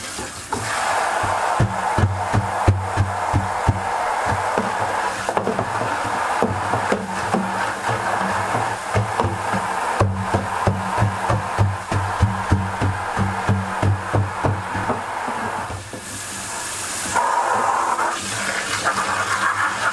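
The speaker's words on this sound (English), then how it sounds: "I'm going to take my hose here and go ahead and start adding my water" Water gushes steadily from a hose into a tub being filled for pickling a deer cape, splashing and churning for the whole stretch with some rhythmic sloshing.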